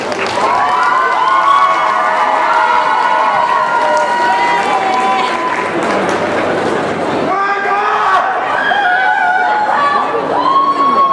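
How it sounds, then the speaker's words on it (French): A crowd at a manga convention cosplay contest cheers and applauds a contestant, loud and dense, with shouts and voices over anime music playing throughout. "Veuillez l'applaudir s'il vous plaît."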